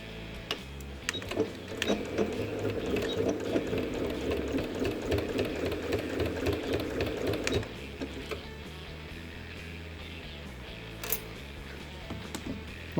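A sewing machine runs close by, stitching three sides of fabric for a pad holder, with a fast, steady mechanical whirring for several seconds, then it stops, leaving quiet handling noises and soft clicks.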